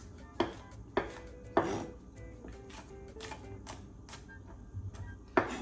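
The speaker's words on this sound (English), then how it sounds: "Now the garlic I'm gonna mince up quite a bit." A knife minces garlic on a cutting board with quiet, irregular sharp taps spaced about a second apart, then a final crisp chop, all close and soft with no talking.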